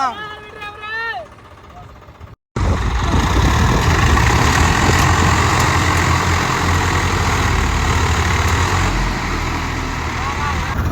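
A heavy engine rumbles loudly and continuously as a Swaraj 855 tractor labors stuck while ploughing a field, after a brief burst of other sound and a short silent gap at the start.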